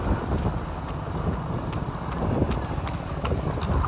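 Horse hooves clip-clop steadily in a village while a group of friends rides together, a continuous rhythmic trotting under wind buffeting the microphone, with faint voices in the background.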